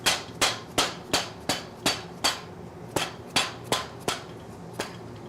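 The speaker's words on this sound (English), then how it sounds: "Give it a slight press with the hammer." A hammer taps an orthotic shoe insert in a cobbler's workshop, about a dozen sharp, evenly spaced strikes ringing out alone at close range with short decays.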